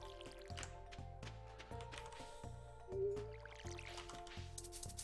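Watering crops in the farming video game Stardew Valley: repeated soft, squishy splashing and dripping effects over a looping, gently rhythmic background music track.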